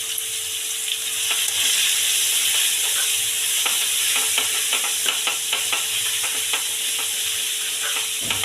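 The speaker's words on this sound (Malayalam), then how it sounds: "കോളിഫ്ലവറിൻ്റെ ഗ്രേവിക്ക് വേണ്ടിയിട്ടുള്ള സവാള വഴറ്റും" Sliced onions sautéing in hot oil in a pan as the base for a cauliflower gravy. A steady, close sizzle runs throughout, broken by scattered clicks and scrapes of stirring.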